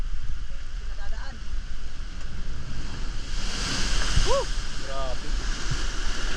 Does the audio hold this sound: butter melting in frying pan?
no